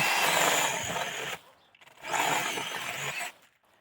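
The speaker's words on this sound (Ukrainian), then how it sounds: "попробую повирізати цією пилкою" Two long, rasping hand saw strokes through old tree branches, close and fairly loud, separated by a short pause, with no talk.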